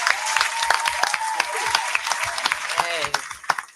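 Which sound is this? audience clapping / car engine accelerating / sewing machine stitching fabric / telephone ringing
audience clapping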